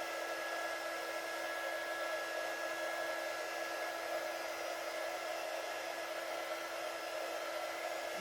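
Heat gun blowing hot air over bonding powder nail art, a steady close whooshing roar with a faint high whine, holding even and unbroken throughout with no talking.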